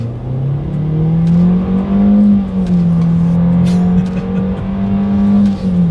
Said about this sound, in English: Let's go ahead and do a quick little acceleration in the 2020 Versa